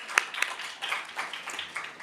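Applause from a lecture audience for Jacqueline, scattered claps forming a soft, moderately distant patter that rises and dips, with no talk over it.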